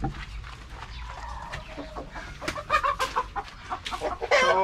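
Backyard chickens cluck near a PVC-pipe feeder, several short bright clucks and squawks coming in a quick irregular burst over faint background noise.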